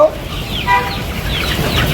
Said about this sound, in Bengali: আমাদের এখানে পাঁচটা মুরগি দিছি